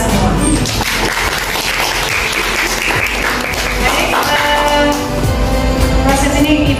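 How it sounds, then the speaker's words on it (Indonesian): A classroom of students applauds in a school, steady, loud clapping that fills the whole stretch, with voices mixed in underneath. "aplaus untuk kita semua"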